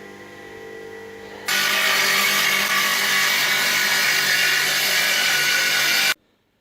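A length of wood is cut with a loud, continuous saw, a dense rasping roar that starts abruptly and runs steadily for about five seconds before stopping dead.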